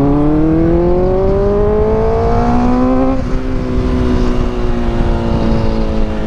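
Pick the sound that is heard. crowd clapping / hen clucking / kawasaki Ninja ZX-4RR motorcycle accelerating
kawasaki Ninja ZX-4RR motorcycle accelerating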